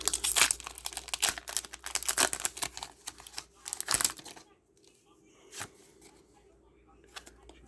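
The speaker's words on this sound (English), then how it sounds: "Gonna be doing a real quick 2-pack opening." Pokemon Vivid Voltage trading card booster packs being torn open, loud close crinkling and ripping of foil wrappers for about four seconds, then quieter sparse rustles and card handling.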